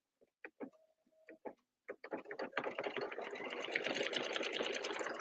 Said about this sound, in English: And I'm going to do the decorative stitching.